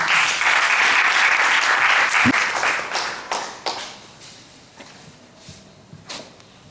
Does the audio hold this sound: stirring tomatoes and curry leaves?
no